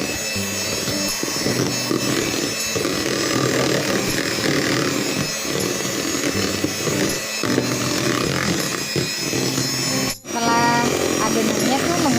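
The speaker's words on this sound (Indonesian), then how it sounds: "lalu kita mixer kurang lebih ada 10 menit, kembali mixer sampai teksturnya benar-benar halus dan lembut" An electric mixer beats eggs into cake batter for a marble cake, whirring in a steady, close, motor-driven drone with a gritty churning texture and one brief dip near the end.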